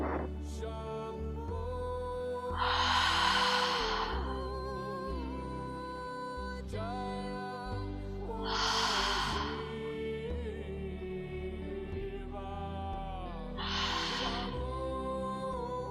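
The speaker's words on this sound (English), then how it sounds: "take a few deep belly breaths in and slower exhales through your mouth to cool off" Three slow breath cycles during a hatha yoga session, each a soft airy breath lasting about two seconds, spaced several seconds apart over a continuous background of gentle music.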